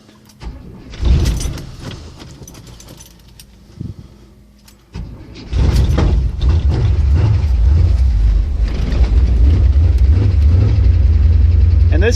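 A 1972 Chevrolet Impala cold-started in low temperature: faint key and cabin sounds, a short cranking attempt, then the engine catches and settles into a loud, steady, rumbling idle close by.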